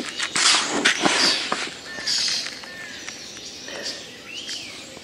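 Birds call beside a river fishing spot, with scattered chirps and short whistled notes at middle distance over a steady outdoor hiss and some rustling nearby.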